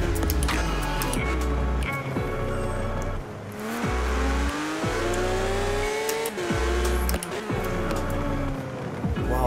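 A Porsche 911 GT3 RS with a 7-speed gearbox in Forza Horizon 4 accelerates hard, its loud engine climbing through the revs in repeated rising pulls, each broken by a quick gear shift.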